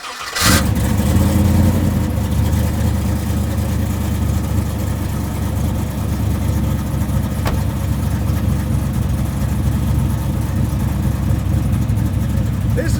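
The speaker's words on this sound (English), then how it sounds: "I gotta start it." The engine of the Ballistic Bandit 4X4 Trans Am cranks and catches with a sharp burst. It then settles into a loud, deep, steady idle that rumbles up close for the rest of the time.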